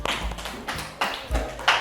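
Classroom applause in an Indonesian school lesson, a few sparse, uneven bursts of clapping rather than a full ovation, fairly close and loud.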